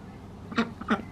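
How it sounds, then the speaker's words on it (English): Ducks on a farm call out at nearby rabbits: two short, nasal, raspy bursts about a third of a second apart, fairly close, over a low background hum. "I think they're hissing at the bunnies."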